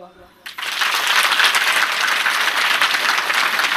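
An audience at a lecture held by a Ganesh festival group in Jehur breaks into loud applause after a short quiet start, then keeps clapping steadily, with voices mixed in.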